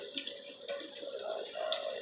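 Water runs steadily from a kitchen sink tap while a child's hair is washed, with splashing changes as the stream hits hair and basin, close and moderately loud.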